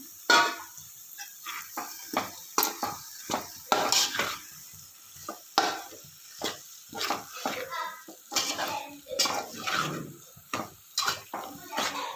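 Bitter gourd pieces stirred into frying masala in a pan, repeated loud scraping strokes of a spatula against metal in an uneven rhythm over a soft sizzle, with a voice now and then.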